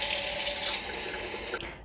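Tap water runs steadily into a container as water is added to a plant-based high-protein smoothie, a continuous close hiss that cuts off near the end.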